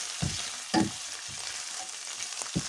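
Meat sizzles and crackles as it fries in butter and olive oil for a Marrakech-style aubergine dish, with a few distinct scrapes and knocks as a spoon stirs the pan, close and with no voices.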